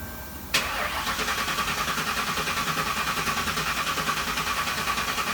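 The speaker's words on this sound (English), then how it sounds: "If you crank it, it will eventually." A car engine turns over with a sharp onset, then runs steadily with a continuous mid-pitched drone and rhythmic pulsing throughout, close and fairly loud, no voices.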